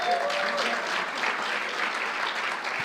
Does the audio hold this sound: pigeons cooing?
no